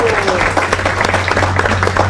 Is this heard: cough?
no